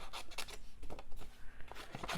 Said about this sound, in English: you can use scissors